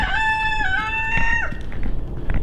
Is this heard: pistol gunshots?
no